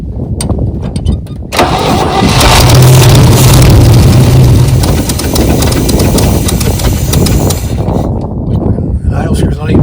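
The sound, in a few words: 1969 Chevy C10 engine running at idle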